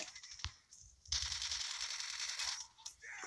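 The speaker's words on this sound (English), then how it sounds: "who shot at me back there?" Sustained automatic gunfire from a first-person shooter match in Call of Duty Mobile, a long rattling burst after a few sharp single shots, loud and close, with brief gaps.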